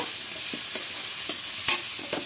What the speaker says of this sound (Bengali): ভেজে রাখা আলুগুলো দিয়ে দেবো, দিয়ে মশলার সঙ্গে মাখিয়ে নেব